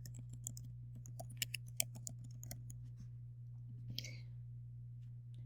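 Someone types a username and password into a computer keyboard to sign in to the Scratch website. A short burst of soft, close key clicks rides over a steady low hum, followed by quiet and then one faint click.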